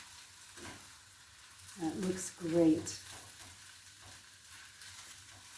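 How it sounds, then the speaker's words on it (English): Asian stir-fried rice with soy sauce sizzles in a hot pan, a soft steady crackle with a brief louder burst while someone speaks a few words over it. "you can hear it sizzling right now"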